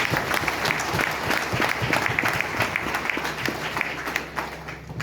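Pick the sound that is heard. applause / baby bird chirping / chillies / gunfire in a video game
applause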